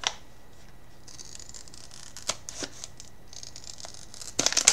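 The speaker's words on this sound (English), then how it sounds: "it doesn't want me to tear it. It wants me to cut it." Scissors cutting open a foil coffee bag from a Tonx delivery, close and quiet, with a crinkly, papery snipping texture, a few sharp cutting snaps, and a louder rustle of the bag at the end.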